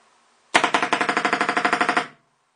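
An air gun on its lowest regulator setting fires a rapid burst of about sixteen sharp pops in under two seconds, loud and close in a workshop, then stops abruptly.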